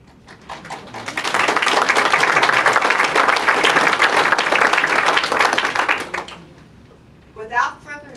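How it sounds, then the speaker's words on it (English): A studio audience at a radio show rehearses its applause: clapping swells up quickly, holds full and dense for about five seconds, then cuts off sharply before a voice speaks. "Let's try out that applause"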